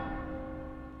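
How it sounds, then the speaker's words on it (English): Church bell in the video game Assassin's Creed, one low sustained toll with a long humming resonance, heard alone and fairly faint. "The bell should have like rang pretty much at that climax."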